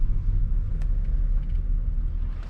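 Steady low road rumble from traffic along a street where trash is set out for pickup, with a car engine droning nearby and no distinct pass-bys standing out.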